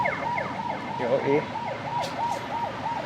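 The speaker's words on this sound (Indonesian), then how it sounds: "ada ambulans bro" An ambulance siren wails in a steady repeating up-and-down pattern while passing on a city street in Cambodia, heard over road traffic rumble with a brief word spoken nearby.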